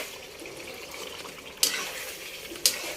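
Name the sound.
stirring fish masala gravy with a ladle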